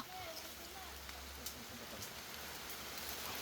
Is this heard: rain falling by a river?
yes